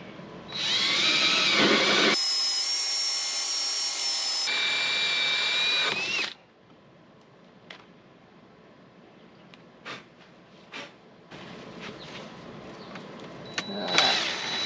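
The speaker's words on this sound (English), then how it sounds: "now I'm going to use this bit and drill a hole this way" A power drill whines loudly for several seconds, its pitch shifting slightly as it bores holes in a door for an RV, then stops; faint clicks and handling noises follow before a short final burst.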